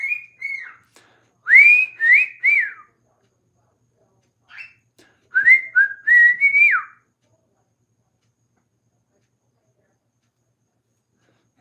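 A person whistles the Andy Griffith theme tune in two bright melodic phrases separated by a short pause, close and clear with no talking.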